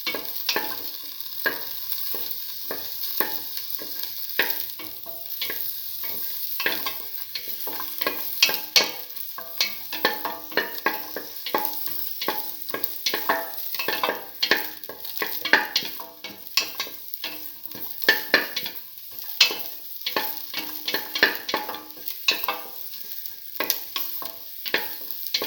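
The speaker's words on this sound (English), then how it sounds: "keep on sauteing." Shallots sautéing in a pan for a red lentil and bottle gourd stew, a continuous close frying sizzle broken by frequent rhythmic spatula stirs and scrapes, with no talking.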